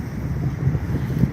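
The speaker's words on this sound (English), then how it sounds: "So yeah, it's a really windy day." Gusty wind buffets the microphone in low, uneven rumbling bursts, steady and fairly loud with no voices.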